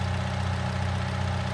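A Manitou telehandler engine idles steadily in Farming Simulator 19, a low, even mechanical hum with a faint regular pulse and no changes in pitch or level.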